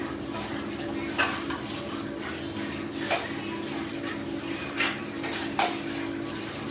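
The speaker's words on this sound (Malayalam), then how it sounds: "ഞാൻ പാത്രം കഴുകിക്കൊണ്ടിരിക്കുക" Dishes being washed after dinner: metal utensils clink and knock together in a few separated bursts over a steady background hum and soft rustle.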